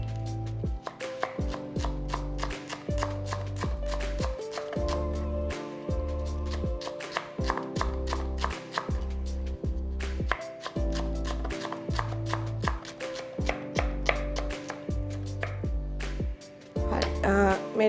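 A knife thinly slices leeks held at a slight angle, making fast, steady, crisp chopping taps that run continuously over a low musical backing without talking.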